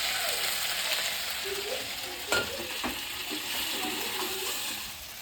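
Potatoes frying in a pan with turmeric, salt and chili, a steady close sizzle with occasional stirring scrapes throughout.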